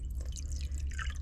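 Water runs steadily into containers to fill them, a continuous close splashing and gurgling with no voices.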